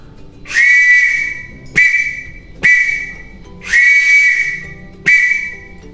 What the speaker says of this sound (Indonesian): penjelasan bunyi peluit menggunakan Morse untuk kepramukaan